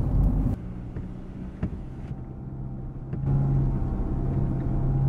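2020 Land Rover Defender driving off-road, a low, fairly quiet engine rumble with a few knocks and bumps, swelling slightly toward the end.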